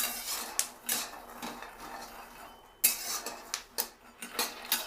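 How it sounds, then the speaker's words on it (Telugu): Peanuts are stirred in a pan while being roasted for chikki, giving sharp metallic scrapes and clinks in irregular bursts with quieter rustling between them. "ఈ విధంగా వేపుతూ ఉంటే కిందవి పైకి పైకి కిందకి తిప్పుతూ ఉంటే"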